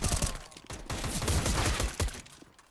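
Rapid gunfire bursts in the video game CS:GO during a competitive match on de_nuke, loud and dense, with several shots packed closely together and no speech.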